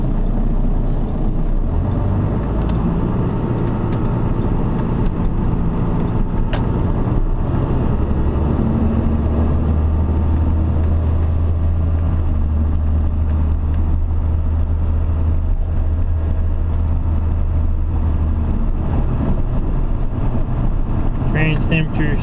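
A 26-year-old first-generation 12-valve Cummins diesel truck engine pulls roughly 7,000 pounds on a warm day, a steady low droning rumble running throughout with road and cab noise and no one talking.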